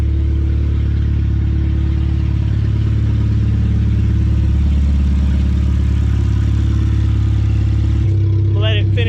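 Supercharged Honda Civic running open header with no exhaust, a loud steady idle with a dense low rumble and whir, shifting pitch near the end as revs change.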